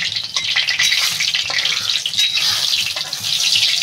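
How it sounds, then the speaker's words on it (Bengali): Grated ginger sizzles and fries in hot oil for a Bengali prawn curry, a steady bright crackling hiss that stays loud and close throughout, with no talking over it. "আদাটা তেলের উপরে দিয়ে দেবো।"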